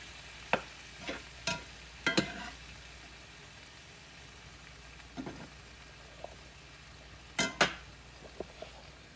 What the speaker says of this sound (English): now we're just going to let those sit there and simmer and let our cheese melt